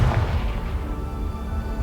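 Confringo fire spell blast in Hogwarts Legacy, a single loud booming impact at the start that rolls off into a rumbling tail, with no voice over it.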